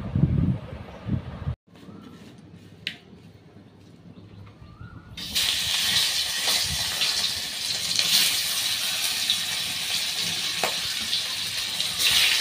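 Hot water poured into a bowl of ground spices (turmeric, salt, chili, cumin, coriander, garam masala) in a home kitchen, a steady broad gushing splash lasting several seconds after quieter handling sounds.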